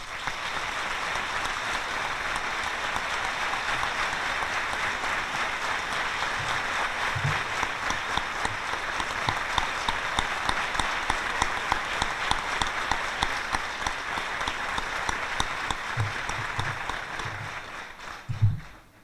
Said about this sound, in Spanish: les quiero pedir un aplauso en recuerdo y reconocimiento a don Francisco Juárez